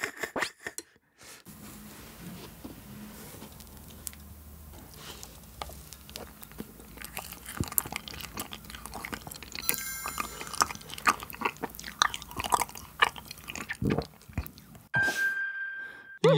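Together vanilla ice cream eaten with Ace crackers gives close, crisp crunches and wet chewing in uneven bursts, with quiet voices murmuring in places.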